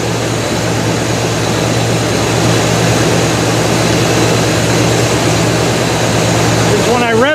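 A Buick car engine with an exhaust leak runs loud and rough, a steady drone with harsh exhaust noise, close to the microphone. Near the end there is a brief rising rev.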